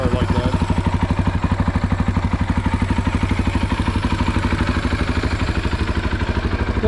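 A Husaberg FX450 motorcycle engine runs steadily at close range, its rapid, even firing pulses holding a loud, regular idle chatter throughout with no voices over it.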